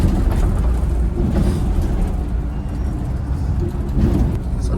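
Volvo B8R coach driving on the Delhi to Manali route, a steady low engine drone and road rumble heard from inside, continuous and fairly loud with no talk.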